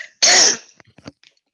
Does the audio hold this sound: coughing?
yes